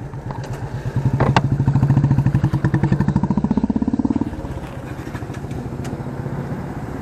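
Motorcycle engine on a long highway ride in hot weather, a steady close rumble with a rising pitch sweep as it accelerates, then settling into constant road drone.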